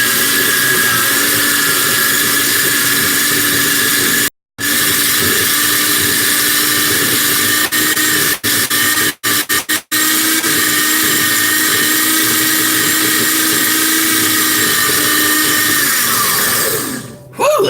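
A food processor whirs loudly and steadily as it blends fresh basil pesto, a dense motor whine with a few brief cut-outs as the machine is stopped and restarted, ending when it winds down.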